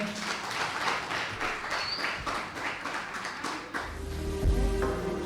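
Audience applause at a school slam poetry competition stage event, a steady dense patter of clapping for about four seconds before it thins out and a low hum takes over.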